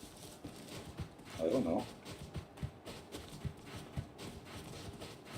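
Horse hooves clip-clop briefly in a video game, a short burst of trotting steps heard quietly under a person talking.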